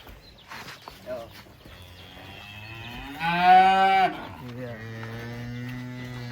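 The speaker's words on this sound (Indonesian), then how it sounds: "Sapi monster yang pertama nih, raksasa." A giant cow lows in a simple barn, a loud drawn-out moo rising and holding near the middle, with men chatting around it before and after.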